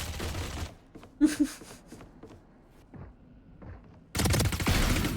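Guardian rifle firing in Valorant, a quick tight cluster of sharp shots near the start, a few fainter clicks and thuds after, then a dense loud burst of noise at the end.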